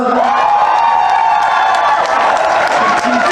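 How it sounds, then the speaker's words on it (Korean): A crowd at a network marketing event greets a speaker with loud, sustained applause and cheering, dense clapping under whoops and shouts that carries on without a break. "여러분 큰 박수로."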